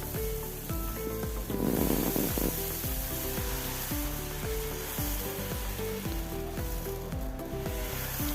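Rava dosa batter sizzles on a hot tawa over a gas flame, a steady hiss that swells briefly and then holds, while rhythmic background music plays loudly throughout.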